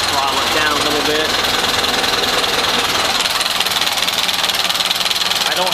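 A Ford Model A pickup's engine runs steadily close by, a loud continuous rattling idle with a rapid even beat and no pauses, a little rough from carburetor flooding.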